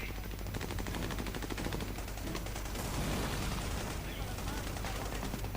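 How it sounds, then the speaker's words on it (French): Rapid automatic machine-gun fire from the video game Army of Two rattles continuously and loudly throughout, dense bursts with gunfire layered on top and voices heard beneath the shooting. "Faut neutraliser la mitrailleuse."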